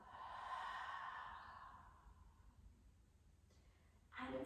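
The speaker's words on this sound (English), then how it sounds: "Taking a big breath in and a long breath out." A slow, breathy exhale drifts out softly and steadily over about two seconds during a guided yoga and mindfulness relaxation, followed by near silence and a faint rustle.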